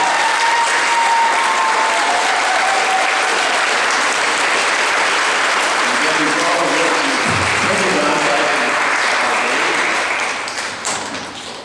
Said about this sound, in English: all the alumnus from the school can please stand and applaud you